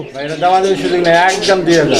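Pigeons coo close by in soft, rolling, throaty calls that rise and fall without a break.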